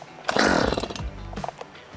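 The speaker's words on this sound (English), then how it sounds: "let's give it a few pulls until it turns over." Stihl chainsaw on full choke catching after a pull, a brief loud sputtering burst of engine firing that quickly fades into a rough, uneven idle, close up.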